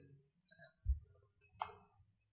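Mouse clicks while working in COMSOL simulation software: two or three crisp, close clicks with a brief pause between, in an otherwise quiet room.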